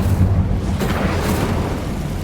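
An Incendio fire spell is cast in the Hogwarts Legacy video game, giving a continuous roaring, crackling burst of flame that stays loud and close throughout the short stretch.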